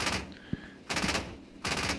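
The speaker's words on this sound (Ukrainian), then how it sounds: "Це МК-20 насипає до 1000 пострілів на хвилину." A Marder A1's MK-20 autocannon fires in a video game: rapid bursts of gunfire at roughly 1000 rounds per minute, with short sharp volleys separated by brief pauses.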